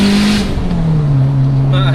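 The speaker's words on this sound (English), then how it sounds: "You just hear the noise. Yeah. That is the characteristics of the clutch." A 500bhp Toyota Celica GT-Four rally car drones loudly at steady engine pitch with a faint mechanical clutch whine, voices talking over the cabin noise throughout.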